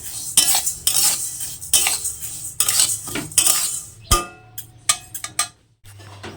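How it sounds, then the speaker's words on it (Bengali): Lentils being dry-fried in a pan, busy metal scraping and stirring with a spoon against the pan, then a few sharp clinks and taps that fade into quieter gaps. "এদিকে হচ্ছে ডালটা ভাজি দেখতে পাচ্ছ এখানে ডালটা ভাজছি"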